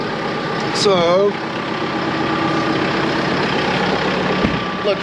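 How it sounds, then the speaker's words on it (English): A tractor engine idles steadily as it warms up on a farm, a low continuous rumble heard nearby throughout, with a brief higher whine near the start. "let the tractor warm up for a minute"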